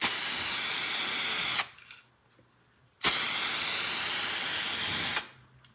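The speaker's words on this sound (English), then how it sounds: "test the output of the spray on a test card" Two loud, close bursts of aerosol spray paint hissing onto a test card, each lasting a couple of seconds, separated by a brief quiet pause, while painting a car at home.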